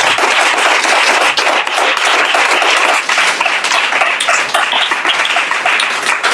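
A church congregation applauding loudly and steadily, many hands clapping in a thick, continuous wash close by for several seconds.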